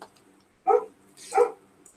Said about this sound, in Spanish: Uy, disculpen, perros.